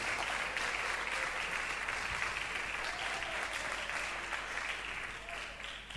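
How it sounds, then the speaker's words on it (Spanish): A church congregation claps loudly and continuously at a Bible study service, a dense, even wash of applause that holds steady throughout with no voices rising above it. "dele un aplauso fuerte al Señor"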